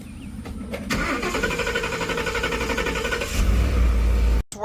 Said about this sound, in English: Do you hate it how your vehicle struggles to start